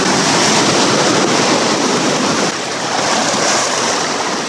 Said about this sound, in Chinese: 我看了浪是不大的，没想到晚上的浪却是两码事